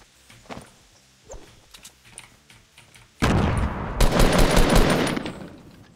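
Shotgun fire in the Fortnite battle royale 50v50 mode: a few light game sounds and steps, then a sudden loud burst of rapid blasts and sharp cracks lasting several seconds.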